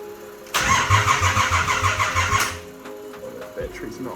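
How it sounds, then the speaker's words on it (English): A Nissan C33 Laurel with a new motor cranks loudly on a struggling battery, a fast rhythmic churn for about two seconds that stops without catching, followed by quieter shuffling and a voice nearby. "It's so close to starting."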